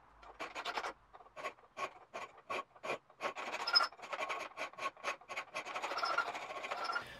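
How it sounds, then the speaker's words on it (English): Hand file rasping along a steel knife tang, a close series of short, rhythmic scraping strokes, each a dry gritty burst with brief pauses between, growing denser toward the end. "I'll also work the tang, again using the file on one side"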